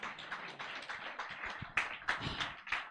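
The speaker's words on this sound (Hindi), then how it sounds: "ताली बजाकर धन्यवाद करें।" A church congregation at a Sunday service applauding, scattered uneven claps, some sharp and close, rising into brief bursts toward the end, moderately loud with no speech.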